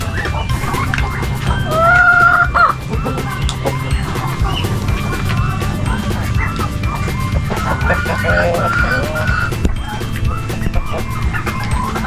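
Chickens at a poultry farm cluck and call repeatedly over a steady low background noise, with no voices heard, in a rainy area.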